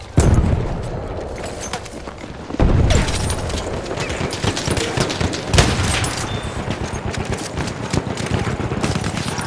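Battlefield 1 combat on the Argonne Forest map: a heavy booming grenade blast and dense rolling gunfire, with several loud thumping impacts over continuous rattling shots that stay close and intense throughout.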